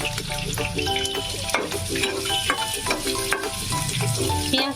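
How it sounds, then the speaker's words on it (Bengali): Chopped onions hit a hot pan of oil for green chicken and fry with a dense, loud, continuous sizzle and crackle, stirred close up. "এবারে দিয়ে দেবো কুচনো পেঁয়াজ"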